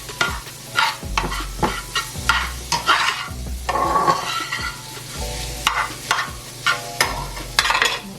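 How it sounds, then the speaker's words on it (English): Diced garlic sizzles in a hot pan while being stirred, with repeated scraping strokes and crackling bursts in a steady rhythm, close and fairly loud, no talking. "Put in a little bit of diced garlic."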